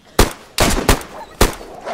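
Gunshots in DayZ: three sharp, loud shots in quick succession within two seconds, each with a short echoing tail.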